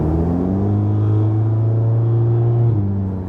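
Cabin view of a 400-horsepower Audi S3 with exhaust valves closed: a steady, damped low engine drone climbs gradually in pitch under acceleration, then drops briefly at a gear change, muffled and close with no talk.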